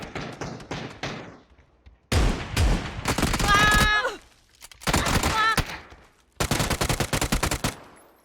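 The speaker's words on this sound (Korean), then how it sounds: "밀렸던 총소리가 제때 들리네요." Bursts of rapid automatic gunfire from a video game, several loud volleys separated by short pauses, with a few ringing metallic tones over them.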